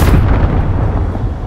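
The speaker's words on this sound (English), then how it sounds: "Cluster strike arriving." Cluster strike explosions in Call of Duty: Modern Warfare, a loud, dense rumble of overlapping booms and blasts with heavy low-end weight, rolling continuously without a break and with no voices.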